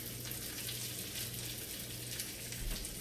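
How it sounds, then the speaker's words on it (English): Red onions sauté in a hot pan with a steady, dense sizzle and crackle that stays even throughout, close and moderately quiet, with no talking. "I want to saute these red onions a little bit so that kind of takes away that raw flavor from it"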